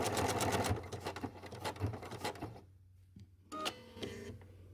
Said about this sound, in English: I'm stitching with the buttons to make sure it stitches just a single repeat.